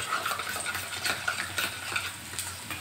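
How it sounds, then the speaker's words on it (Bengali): Ground spice mix for chicken curry is stirred and mixed in a bowl, a close, repetitive scraping and clinking rhythm of quick strokes, with no talking. "ভালো করে এটাকে আমি গুলিয়ে দিলাম।"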